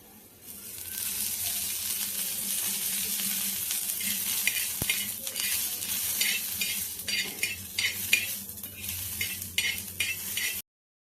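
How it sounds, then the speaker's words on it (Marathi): Onion frying in a little oil in a pan for bhaji masala, a steady close sizzle with stirring scrapes and occasional utensil clinks throughout, ending abruptly. "आता कांदा भाजण्यासाठी थोडंसं आता ह्याच्यावरती मी थोडंसं तेल टाकणार आहे."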